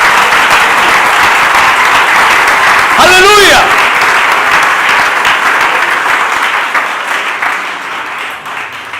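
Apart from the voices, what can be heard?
applause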